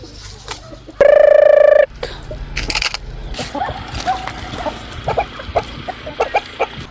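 Chickens cluck and cackle in short, scattered calls nearby, after a brief loud tonal beep, with some rustling and scuffling around them.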